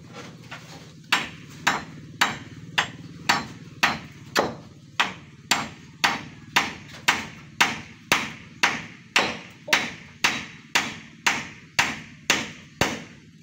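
Sharp, ringing hammer blows drive a nail into hard cement, about twenty evenly spaced hits in a steady rhythm, close and loud with no talking.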